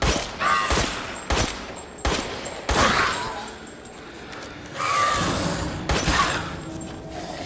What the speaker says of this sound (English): Samurai Edge features both a blazer sight and a suppressor on the barrel.